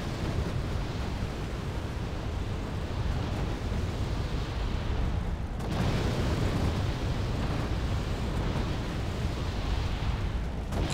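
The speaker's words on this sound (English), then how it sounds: "I have finally mortars, so they are going to provide some supporting fire" Mortars firing supporting fire in the Wargame: Red Dragon strategy game, a continuous rumbling barrage of booming blasts and heavy low roar with a brief dip midway.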